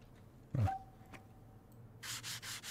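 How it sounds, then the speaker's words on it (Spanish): Sandpaper rubs a surface in a train station renovation game, giving a few short, soft scraping strokes in a steady rhythm after a brief thud, faint and without speech. "Pillamos la lija y a lijar."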